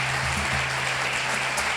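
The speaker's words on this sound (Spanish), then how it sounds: "Den un aplauso de gloria al Señor con toda su fuerza." A congregation in church claps for the Lord with full strength, a loud, steady, densely packed roar of applause that carries evenly throughout, with a low hum underneath.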